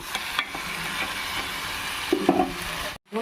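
Chicken biryani ingredients are stirred in a pot over steady sizzling, with a few scraping strokes of a spoon and a brief louder clatter near the end before a sudden drop to quiet.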